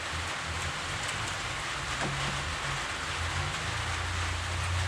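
Steady rain hisses continuously, close and fairly even, with a faint low rumble underneath.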